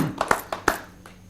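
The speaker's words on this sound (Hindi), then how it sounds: "जोरदार तालियों से आप स्वागत करें भाई प्रवीण शुक्ल का" Sparse, scattered hand claps from an audience welcoming poet Praveen Shukla at a Hindi poetry gathering, a few distinct close claps fading out after a moment.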